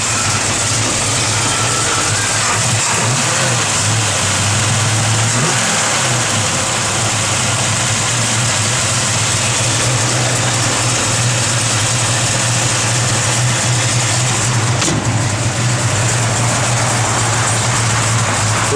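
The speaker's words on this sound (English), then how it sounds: "Yeah, good sounding cam in it." A 1966 Chevrolet Chevelle SS with an aftermarket cam idles close by in a steady, loud, continuous rumble that holds for the whole stretch without voices.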